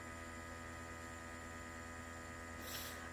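A VAGO portable vacuum compressor runs steadily while compressing bedding, giving a constant close electric hum with a brief hiss of air near the end.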